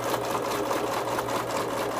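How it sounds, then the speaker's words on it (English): A sewing machine runs steadily while stitching through vellum card stock, a close, continuous mechanical whir with an even, rapid rhythm throughout and no talking. "I like to go slow because my sewing machine is crazy"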